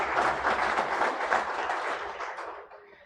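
An audience applauds at the opening ceremony of a lecture on criminal law reforms, with dense, continuous clapping that holds steady and then thins and fades near the end.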